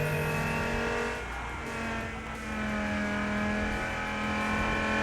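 A street racing car engine in the Wilder World video game holds steady power through a corner, loud and continuous, with a brief dip in the middle and faint tire noise.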